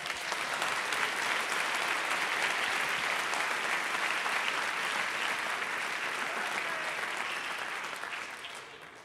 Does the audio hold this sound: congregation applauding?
yes